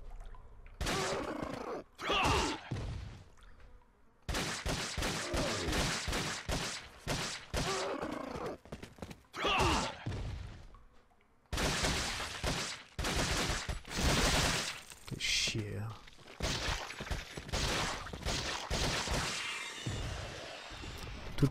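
Rapid repeated gunshots from the survival horror game Resident Evil 4, loud staccato bursts in several volleys broken by short pauses, with grunts and groans between them.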